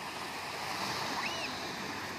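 Calm, glassy Mediterranean sea off Majorca, a steady soft wash of small waves with a breezy hiss, continuous and even with no voices.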